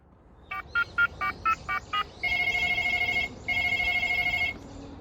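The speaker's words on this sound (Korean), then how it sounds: "핸들 위쪽에 왼쪽 버튼은 전화 벨소리입니다" A BMW X5 toy push car's phone button plays seven quick electronic beeps like dialing, followed by two long, bright trilling ring bursts.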